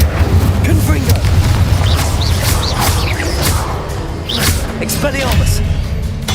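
Confringo explosive spell blasts in Hogwarts Legacy, booming impacts and whooshes layered over game music and effects, with a voice calling spell names amid the loud, dense combat.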